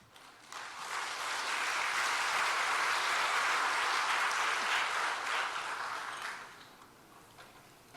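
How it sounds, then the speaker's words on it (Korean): A church congregation at a Sunday worship service claps together in a sustained, even burst of applause lasting several seconds, then tapers off, with no talking. "큰 박수로 맞아주시기 바랍니다."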